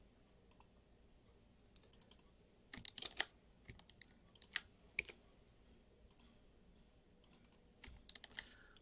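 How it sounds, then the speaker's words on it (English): Computer keyboard keys pressed for a Control A shortcut while working in a Linux desktop, a sparse series of quiet, close clicks and taps spaced irregularly, with a few sharper double clicks and no voices. "I'm pressing Control A if you wondered"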